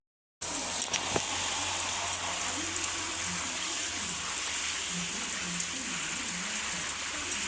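Tap water gushes steadily over taro stems and leaves being washed, a continuous splashing hiss close by, with faint speech-like murmurs in the background.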